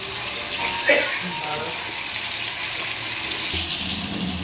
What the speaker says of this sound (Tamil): இந்த இஞ்சி பூண்டு நல்லா வதக்கிடணும்